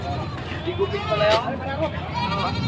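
Goats bleat at a livestock market in Padre Garcia, Batangas, with a few wavering cries rising over nearby talk and the babble of a crowd.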